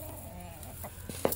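Backyard hens clucking softly over a low background hum, with a few short, sharper clucks near the end.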